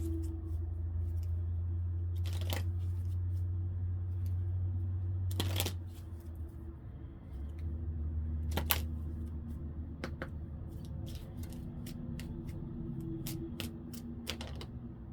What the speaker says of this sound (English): I'm gonna start shuffling my moon dreaming oracle deck here and see what's coming out.